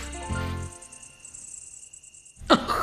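Crickets chirp at night beside a haystack in a children's cartoon, a steady high trill running for most of the stretch. Brief music plays at the start, and a louder rising sound cuts in near the end.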